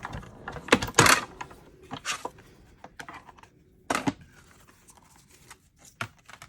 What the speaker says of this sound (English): We'll put our embossing folder in and use our gray plate. And just put this through.